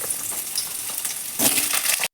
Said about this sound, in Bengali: এবার ওই তেলেই আলুগুলো ভেজে নেব।